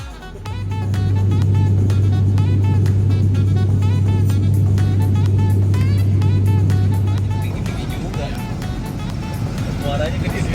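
An ELF minibus engine on an overland road trip drones low and steady for most of the stretch, then eases off toward the end, with speech-like sounds and clatter mixed in over the vehicle noise.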